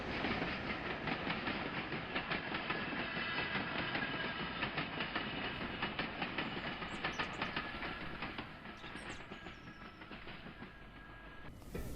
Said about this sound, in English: A down loco pulling its container load heads for the Hoo Junction downyard